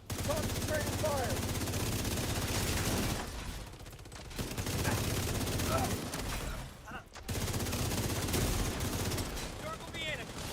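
Heavy, sustained automatic gunfire in a video game, loud continuous volleys with brief lulls, while voices talk over the shooting.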